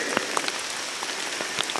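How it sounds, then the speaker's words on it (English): Rain falls steadily on an August food plot, a dense, close hiss broken by scattered sharper drop taps throughout. "And this rain is nothing but a godsend."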